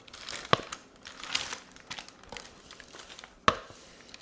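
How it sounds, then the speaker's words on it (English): Granola poured onto parchment paper lining a baking tray gives close, crinkling paper rustles with a few sharp crackling bursts scattered across the pour. No one speaks. "let's pour the granola onto this parchment paper"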